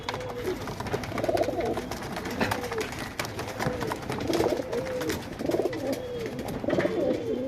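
Pigeons for sale in a lot, males and females together, coo repeatedly in soft rolling phrases against a steady background of birds and faint ambient noise, with no talk.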